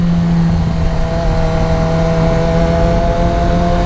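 A Yamaha FZ6R motorcycle accelerates out of a turn with clutchless upshifting, heard as a loud, steady engine drone with a strong humming tone and wind rush, close to the rider.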